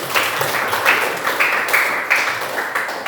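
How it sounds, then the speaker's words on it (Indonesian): An audience of students claps together in a classroom, a short burst of scattered, fairly close applause with uneven rhythm. "Iya, tepuk tangan dulu semuanya."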